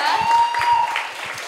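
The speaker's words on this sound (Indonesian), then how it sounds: "Boleh tepuk tangan dulu ya" Audience at the NCLSC 2023 Christian leadership session clapping briefly, a dense patter of hands under a steady tonal hum from the hall's sound system, with some voices mixed in.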